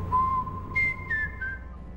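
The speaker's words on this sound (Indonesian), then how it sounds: "dia dengar suara siulan aneh yang datang entah dari mana" Eerie whistling from an unseen source aboard a boat in the horror film Scream Boat: a long pure tone followed by three short rising notes, clear and alone.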